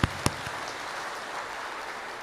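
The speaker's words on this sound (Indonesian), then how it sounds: "Kita berikan tepuk tangan untuk gereja ini." A church congregation in Nusa Dua claps for the church, a few sharp claps at the start followed by a soft, steady patter of applause.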